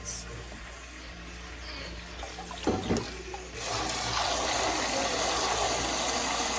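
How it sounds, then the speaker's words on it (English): Tap water runs into a cooking pot in a home kitchen, with a quieter trickle at first and a few clinks of the pot, then a steady, louder rushing gush as the flow increases. "I'm just filling our pot up with water above the gray dots."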